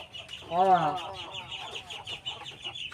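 A chicken gives a short, clear cluck close by, followed by softer scattered clucks and faint rustling.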